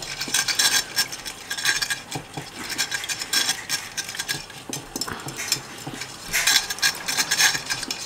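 A whisk clatters rapidly against a bowl while stirring duck marinade mixed with jam, producing bright, irregular metallic scraping and tapping strokes at close range with no talking.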